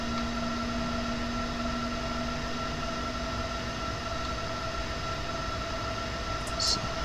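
A locomotive running in Train Simulator 2020 near Leipzig Hauptbahnhof: a steady electric drone with sustained tonal hums continues evenly throughout, with a brief high chirp near the end.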